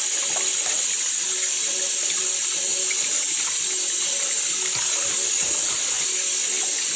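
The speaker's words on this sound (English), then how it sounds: "Always good to wash the rice, you know, just to make sure everything is clean." Water runs steadily from a kitchen tap into a sink while rice is washed, a constant close hiss of flow with faint clinks and stirring beneath it, no voices.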